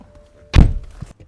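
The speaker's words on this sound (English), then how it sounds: "Shut this door." A BMW E90 sedan's door is shut once with a single solid, muffled thunk, followed by a faint knock and quiet surroundings.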